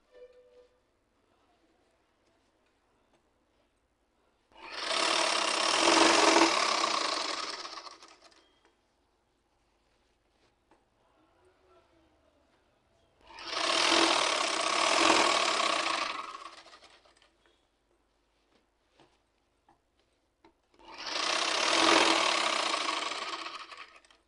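A sewing machine stitches falls onto a saree in three separate runs of a few seconds each, steady rapid whirring and clatter close by, with quiet pauses between.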